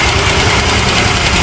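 Honda Click scooter engine idling with a noisy, rough running note, a steady close drone with knocking vibration throughout, no talk over it.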